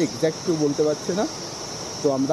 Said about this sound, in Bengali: ঝিঝি পোকার ডাক, জঙ্গলে যেটা হয় আর কি।